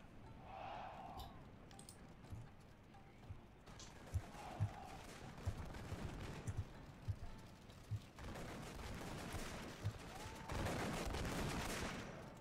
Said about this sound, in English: let's send a couple of these gunmen through the breach there to fire